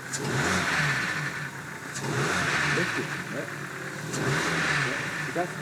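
Cheap Ford Focus engine idling with a rattly top end, a steady mechanical clatter and hum heard close up while people talk over it.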